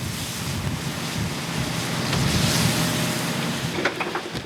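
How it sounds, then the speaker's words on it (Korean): Strong wind roars over crashing high waves at sea around a snow crab fishing boat, a continuous loud rushing swell that builds in the middle, with no voices. "바람이 거세게 불기 시작했다. 파도도 덩달아 높아졌다."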